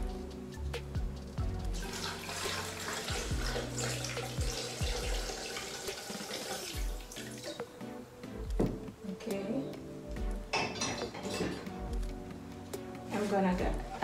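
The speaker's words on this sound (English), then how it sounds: "I'm gonna add the water" Water pouring into a blender jar while making pineapple carrot juice, a splashing gurgle with clinks and background kitchen noise running throughout.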